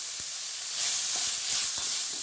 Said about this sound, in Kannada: ಇದನ್ನಾದಮೇಲೆ ಇದೊಂದು ನಿಮಿಷ ಫ್ರೈ ಮಾಡ್ಕೋಬೇಕು.